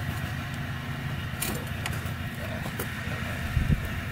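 A KTM 500 motorcycle engine running lean with its air filter removed, a steady low idle rumble throughout with a brief louder rev near the end.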